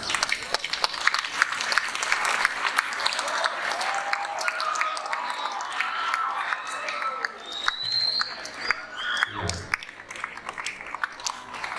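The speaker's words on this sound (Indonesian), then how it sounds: "kita berikan aplaus dulu kita semuanya" Audience applause at a Youth Pledge (Sumpah Pemuda) ceremony: a sustained crowd of clapping with some cheering that swells and then fades, with voices mixed in near the end.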